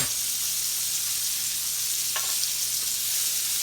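Chicken fried steak sizzles steadily on a flat top griddle, a continuous close hiss with a few faint scraping ticks partway through and no talking.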